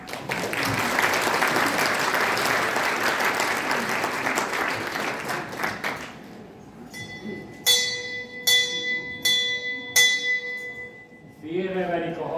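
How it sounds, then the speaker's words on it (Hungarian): Applause fills the first half, then a bell strikes loudly four or five times in a quick, regular alarm-like rhythm before a voice begins. "Félreverik a harangot!"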